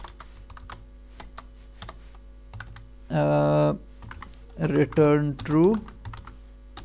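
Computer keyboard typing while writing C++ code, with scattered key clicks throughout and someone talking briefly over the later part.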